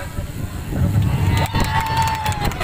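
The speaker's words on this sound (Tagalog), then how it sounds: "Ang bilis pumalakpak, ah!" Audience at a comedy night in Semirara cheers and shouts loudly in a dense crowd roar, with clapping mixed in under the noise for a few seconds.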